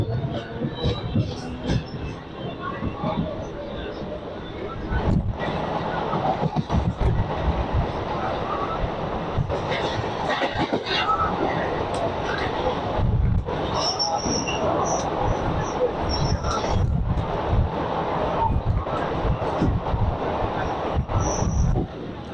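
A Chennai Central suburban local train running toward Sullurupeta, heard from on board with continuous loud rumbling wheels, rattling carriages, recurring rail clanks and occasional high wheel squeals, with wind noise throughout.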